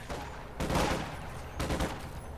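Panzer Grenadiers fire Sturmgewehr assault rifles in the Company of Heroes 2 video game, two rapid bursts of crackling gunfire about a second apart over a steady battle background.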